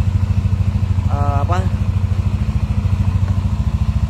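An older Yamaha NMAX scooter with a code 61 idle-control fault idles steadily and close, its engine throbbing in an even, rapid pulse throughout while a voice briefly speaks over it.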